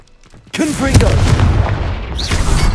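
A Confringo explosive spell blast in Hogwarts Legacy hits abruptly after a short quiet lead-in, then a loud, dense rumble of booms and crackling carries on, with voices faintly mixed in.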